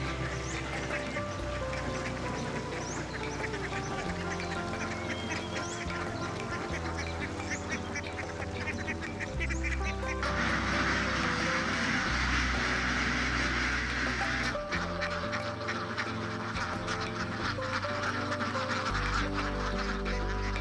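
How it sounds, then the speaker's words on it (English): Ducks quack over a free-range duck farm where tens of thousands roam across fields and along ponds and lakes, a dense, continuous chorus of many birds, loud and close, with no talk. "a place where tens of thousands of ducks roam freely across fields, along ponds and lakes"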